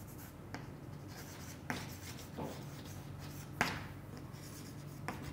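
Chalk or marker scratching across a board during a geology lecture on faulting, faint and intermittent, short strokes and taps at irregular intervals over quiet room tone.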